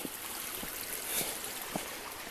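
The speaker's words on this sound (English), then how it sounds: "so here's a little creek" A small creek beside a mountain hiking trail on the Appalachian Trail near Mt. Cammerer, giving a continuous soft rush of flowing water with faint trickles and occasional light knocks, fairly quiet and steady.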